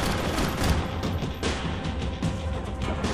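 Dense bursts of gunfire and impacts from the shooter game Max Payne 3, a rapid, loud fusillade of shots with booming hits, continuous over a few seconds with no talk.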